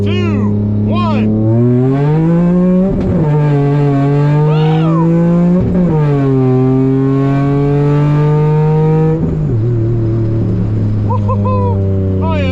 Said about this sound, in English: let's give it a first gear nitrous pull.